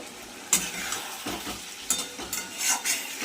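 Masala for a parshe fish curry with potol and potato stir-fried in a pan, with a constant sizzle broken by several brisk spatula strokes and metallic clinks, close and without voices.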